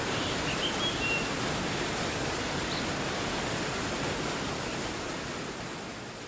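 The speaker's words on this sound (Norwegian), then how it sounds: "Ser på vatten som rinner, hører på fossen." A mountain river waterfall in the Kvikne highlands roars as a steady, broadband rush of falling water, loud and close, holding constant for several seconds and easing slightly toward the end, with no voices.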